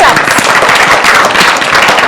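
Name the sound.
loud clapping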